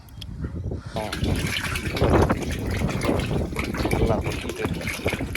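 Dissolved organic fertilizer poured into about eighty litres of water in a bucket on a farm, giving a steady gushing splash that starts after a second and runs on loudly.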